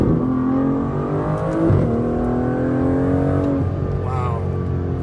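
An 850-horsepower Aston Martin DBS accelerates hard, its engine droning loudly with rising and shifting tones and the wheels struggling for grip, heard from inside the cabin throughout.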